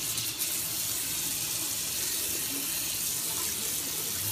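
Tap water pours steadily into a sink as a young child rinses it, a close, constant splashing rush with no break and no talking.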